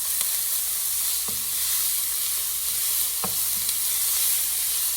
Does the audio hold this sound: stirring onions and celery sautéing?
yes